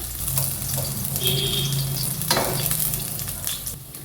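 Chopped garlic and shallots frying in hot oil for paal kappa, a steady close sizzle with the clatter of stirring running through, no talking.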